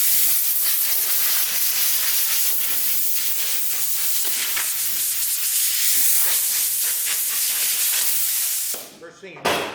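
Compressed air blows dust off a part in a workshop while parting lines are being removed, a loud steady hiss running for about nine seconds before cutting off abruptly.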